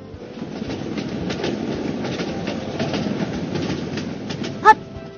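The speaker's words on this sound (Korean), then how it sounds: "칙칙폭폭 기차가 달려요." A train rolls past with steady clickety-clack of wheels over rail joints at moderate volume, ending in a short sharp squeal or horn-like blast near the end.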